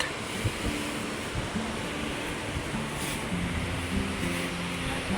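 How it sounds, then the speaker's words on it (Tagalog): Wind blows steadily at a seaside spot, a constant rushing roar with a low hum beneath and gusts that swell slightly, no voices. "rinig na rinig yung ihip ng hangin"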